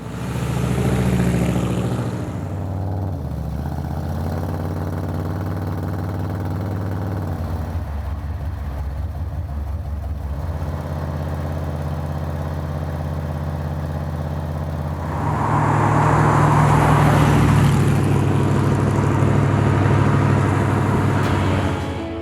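A 1957 Chevrolet Bel Air convertible with a V8 engine drives along with a steady, loud low drone, then surges louder with a rev near the end; no voices are heard.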